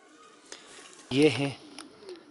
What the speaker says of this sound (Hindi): देखिए ये हमने कुछ कबूतर पाले हुए हैं।